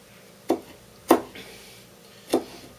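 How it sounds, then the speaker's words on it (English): Garlic is chopped with a knife on a board in a home kitchen, with three sharp, separate cuts at an uneven pace and no speech. "Just cut up the garlic really good."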